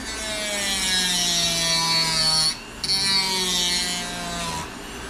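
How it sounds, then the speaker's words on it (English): A rotary tool fitted with a sanding disc grinds steadily against wood, a loud continuous whining rasp with a pitch that sags and recovers as pressure changes, briefly easing off midway before resuming. "the main thing is you see how the sand disc works"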